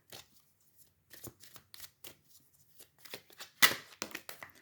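Oracle des miroirs deck cards being shuffled by hand, a run of soft papery riffles and slides in uneven bursts, close and fairly quiet, with one sharper snap near the end.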